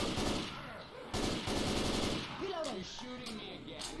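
Rapid M16 rifle bursts in the Left 4 Dead 2 video game: dense automatic gunfire in two stretches with a short break between, loud and close, mixed with some game effects.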